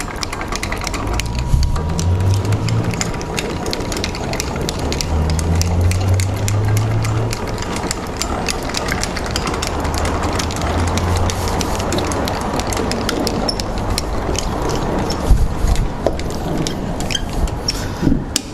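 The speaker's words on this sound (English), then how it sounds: "And then you winch it over with the winch cable." A winch cable pulls an SUV camper trailer over, giving a loud, continuous mechanical whir with a dense rapid clicking and rattling that runs unbroken and close throughout, with no voices.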